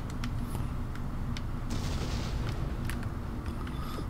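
A ship exploding in the Dead Space video game, a steady dense roar of rumbling blasts with sharp cracks and bangs scattered throughout, loud and continuous.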